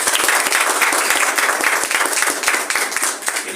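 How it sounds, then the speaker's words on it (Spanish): Audience applause at a church service, dense steady clapping from a congregation filling the space at a constant level for the whole stretch. "¿Por qué no le das un aplauso?"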